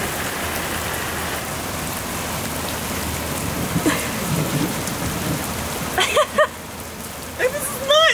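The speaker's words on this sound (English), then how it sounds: "We are in the middle of a thunderstorm right now" Heavy rain hisses steadily during a thunderstorm while low thunder rumbles, and a few voices break in near the end.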